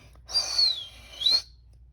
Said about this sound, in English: He blew on a reed whistle.